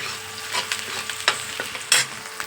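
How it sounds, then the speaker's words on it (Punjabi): Vegetables sizzle steadily in hot oil, with a spoon scraping and clinking against the pan in occasional sharp strokes. "ਇਧਰ ਆਪਣੇ ਲੱਗੀ ਜਾਂਦਾ ਤੜਕਾ ਸਬਜ਼ੀ ਨੂੰ ਦੇਖੋ ਇਧਰ"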